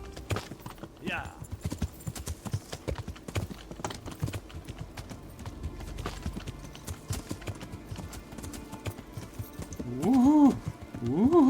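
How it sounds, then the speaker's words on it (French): Horse hooves clatter at a gallop over rough off-road ground in the medieval video game Kingdom Come: Deliverance, a steady rapid beat running under frequent talk, with a whoop near the end. "Je fais du tout-terrain avec un cheval."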